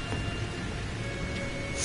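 Blood rain pouring in the horror game Outlast 2, a steady, dense hiss of falling rain with no break over the short stretch.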